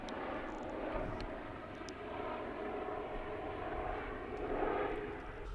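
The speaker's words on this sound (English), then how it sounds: "Got a helicopter." A helicopter flies overhead outdoors, a steady, moderately loud engine drone that swells and eases slightly as it passes.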